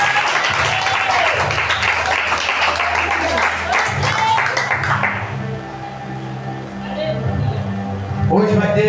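A church congregation at a Portuguese-language evening communion service applauds loudly and continuously, with a voice speaking over the clapping and musical tones sustained underneath.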